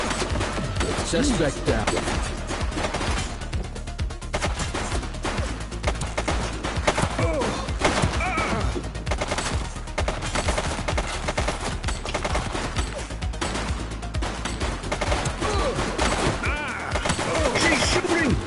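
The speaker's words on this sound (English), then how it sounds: "Shots fired!" Sustained gunfire from the police game The Precinct, dense bursts and single shots crackling nonstop at close range while voices call out over the shooting.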